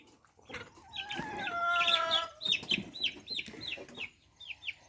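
A hen clucks and squawks while chasing a chick around a garden coop, a loud close burst of agitated calls followed by a run of quick, rhythmic high chirps and clucks.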